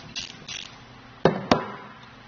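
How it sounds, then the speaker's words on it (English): A half-inch socket works the nut off the underside of a Demco metal eZ-Latch on a 2-inch trailer coupler, with two soft ratcheting scrapes followed by two sharp metallic clicks up close. "removing the nut on the underside of that latch with the half-inch socket"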